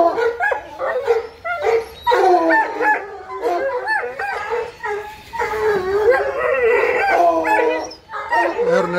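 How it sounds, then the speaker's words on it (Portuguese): A dog howls and barks nearby in loud, wavering howls broken by yips and whimpers, repeating over several seconds. "O cachorro bonito mesmo."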